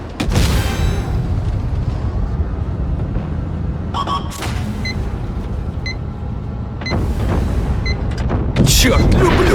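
Heavy tank gun blasts boom through a noisy World of Tanks Blitz game soundscape, with a couple of sharp shots and clanks under a constant engine rumble and speech.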